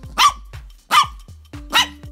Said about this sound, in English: a Chihuahua compensates for how pint-sized it is by being one of the loudest and most talkative dogs ever